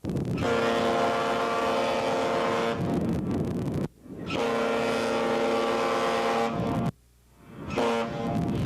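The deep horn of the freighter Roger Blough sounds a salute to its home port, two long loud sustained blasts with a shorter third, carrying over the harbor with no talk.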